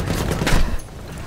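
Rapid close gunfire in Battlefield 1, a short dense burst of overlapping shots with a loud crack near the middle, fading out within about a second.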